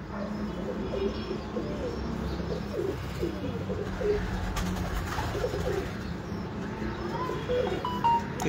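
Home loft pigeons coo softly and repeatedly in the background, joined by a few faint chirps against steady low ambient noise; no one speaks.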